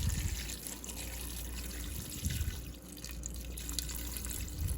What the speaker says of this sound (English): I'm gonna add my water, and I just do enough to cover the pasta.